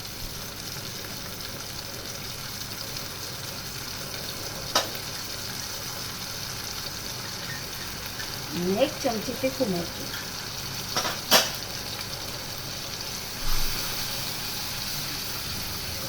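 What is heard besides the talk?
spices frying in oil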